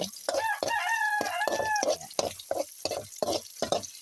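A rooster crows loudly and nearby, followed by a run of rhythmic clucks from chickens, repeating roughly every half second, in a home kitchen.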